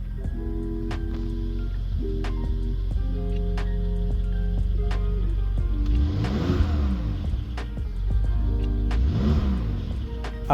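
A BMW X5 M's S63 V8 engine accelerates repeatedly, revs rising through gear shifts with a steady low rumble underneath and whooshing passes of wind or traffic.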